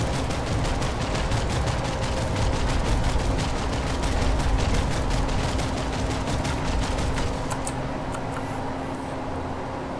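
Rapid gunfire from a tank's nose cannon in the online shooter Planetside 2, a dense, steady barrage of sharp repeated shots with explosions, loud and continuous throughout with no talk.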